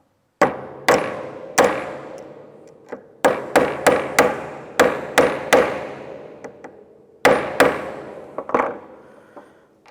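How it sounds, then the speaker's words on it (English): Sharp metallic hammer blows strike a part to pop it out during a catch can install, in irregular bursts, loud and close, each hit ringing briefly before fading. "You take a hammer or something of that nature and just pop it out of there"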